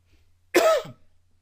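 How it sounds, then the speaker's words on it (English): A single short, harsh throat-clearing cough, close and fairly loud, with quiet surroundings before and after. "I feel a cough coming on. Let me get a little swig of water."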